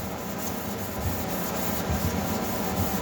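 An SOS steel-wool pad scrubs rust buildup off a heating element, making a continuous close, gritty rubbing with steady back-and-forth texture and no voices.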